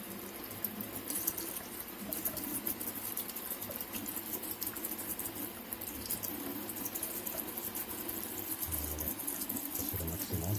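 Hot water runs steadily from the tap of a small instant water heater, a continuous hiss and splash with no talk.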